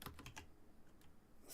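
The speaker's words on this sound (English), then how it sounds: "Let me type in North Carolina" Quick bursts of keystrokes on a computer keyboard, close and fairly quiet, with a short pause mid-way before a few more taps, typing in a team name during a March Madness pre-game show.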